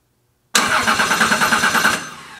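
A Subaru engine swapped into a Porsche cranks and catches after a moment of silence, then settles into a loud, close, pulsing idle with a steady rhythmic throb before cutting off abruptly.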